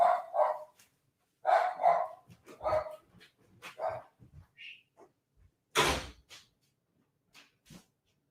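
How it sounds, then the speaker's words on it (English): A dog barks like mad at workers outside a house, with several sharp bursts in irregular clusters and pauses, fairly close and loud, with a few yips and softer whimpers between barks. "your dog sees them outside and just starts barking like a madman"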